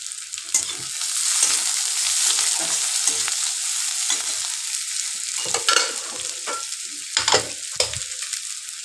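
Chopped onion frying in a pan while vegetarian ghugni is cooked, a loud close sizzle broken by repeated sharp scrapes and clatters of a spatula stirring, with no voices.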